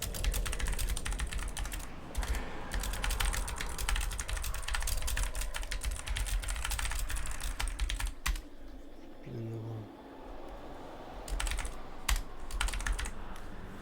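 Rapid computer keyboard typing during online play of Lord of the Rings Online, dense clattering keystrokes running nearly throughout, close and fairly loud, with a brief lull in the middle and no talking.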